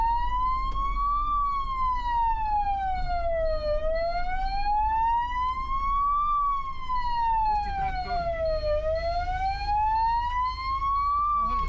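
Fire engine siren wailing steadily in slow rising and falling sweeps as firefighters head to a field fire, loud and continuous throughout with a low rumble of the moving vehicle beneath.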